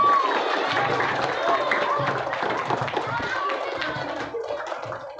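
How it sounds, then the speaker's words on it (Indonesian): Children applauding and cheering at an elementary school Ramadan program, a loud crowded burst of clapping with lively voices mixed in throughout. "tepuk tangan untuk kita semua"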